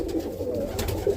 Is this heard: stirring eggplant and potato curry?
no